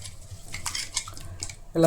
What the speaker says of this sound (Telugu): ముక్కలు ఇలా కట్ చేసుకొని